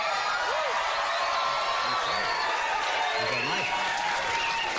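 Studio audience at a late-night talk show applauding, cheering and whooping in a continuous dense roar, with scattered shouts and laughter rising above the clapping throughout.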